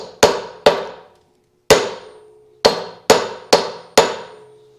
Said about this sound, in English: give it a couple of taps with this brass drift and a hammer